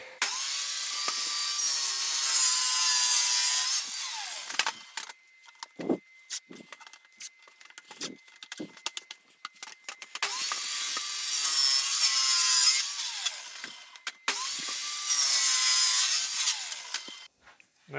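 A saw cuts a kerf through scrap wood in a workshop with close, loud, rasping back-and-forth strokes in three separate bursts, broken by a quieter stretch of knocks and shuffling, with no talking.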